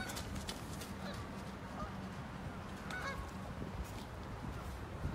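Geese honk a few times in Central Park, New York, on a winter night, the short calls standing out over steady park and city background noise.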